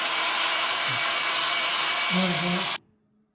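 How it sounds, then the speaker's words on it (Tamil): A hair dryer blowing on hair right after a bath, a loud steady whirring roar close by that cuts off abruptly near the end, with brief voices under it. "இப்போ தான் குளிப்பாட்டி விட்டு தலைக்கு ட்ரையர் போட்டு விட்டுறலாம் அப்படின்ட்டு"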